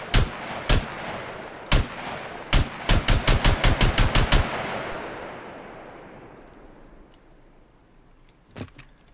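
A rifle fires in the survival game Scum: a few spaced single shots, then a fast automatic burst of about ten rounds, loud and close, with a long fading echo and one later shot.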